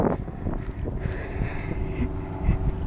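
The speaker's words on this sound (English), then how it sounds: "It's windy." Wind blows across a park on a Saturday, rumbling and buffeting the microphone in uneven low gusts throughout.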